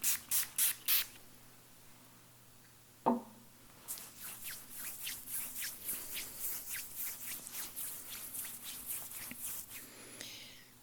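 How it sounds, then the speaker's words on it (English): A hand spray bottle is pumped onto the hands in a quiet room: four quick close hisses, a brief rustle, then a long run of soft rhythmic spritzes and hand rubbing at low volume. "I'm just going to spray my hands."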